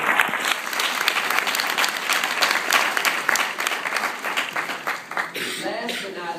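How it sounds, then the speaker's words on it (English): Parents, guardians and family members at a school promotion ceremony give themselves a big round of applause: full, sustained clapping from a large room, with a voice briefly rising over it near the end. "So parents, guardians, and extended family members, give yourselves a big round of applause"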